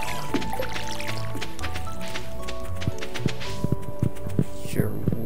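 Watering can splashing water into a dog's bowl on a Stardew Valley farm, a bubbly liquid gurgle with a series of soft dripping plops and clicks, fairly close and steady.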